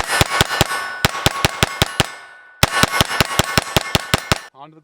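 Taurus TX22 rimfire pistol firing rapid shots onto steel targets, two quick bursts of sharp ringing clangs separated by a brief pause, loud and close, ending with a short voice.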